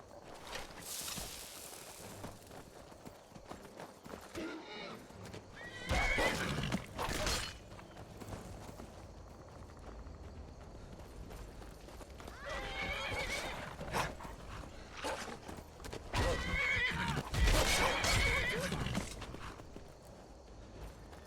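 A horse called Frost in the video game Skyrim neighs and whinnies several times in separate bursts, with hoof clip-clops and footsteps between, fairly close and clear without talk.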